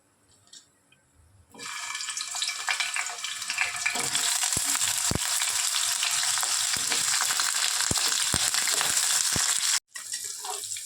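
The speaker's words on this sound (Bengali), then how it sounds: "তেলটা গরম হয়ে আসলে এর মধ্যে ক্যাপসিকাম আর আলু আমি কেটে নিয়েছি, এটা এখন ফ্রাই করে নেব।" Sliced capsicum and potatoes dropped into hot olive oil in a frying pan, a quiet start giving way to a loud, steady sizzle with occasional stirring clicks and a brief break near the end.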